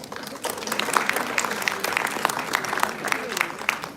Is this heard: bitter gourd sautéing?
no